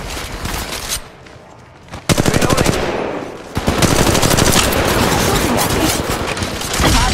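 Rapid automatic gunfire rattles loudly in a shooter video game, in long sustained bursts broken by a short pause, with voices calling out over the shooting.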